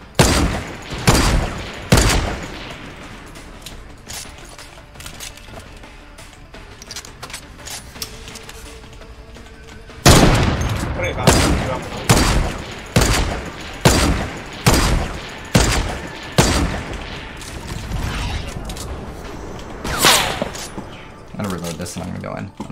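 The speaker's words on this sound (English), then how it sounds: "they're shooting with this. This is like a shotgun, right?" Shotgun fire in Fortnite gameplay, a run of loud, sharp blasts, some close together, then a steadier series of shots about a second apart, with players talking over the action.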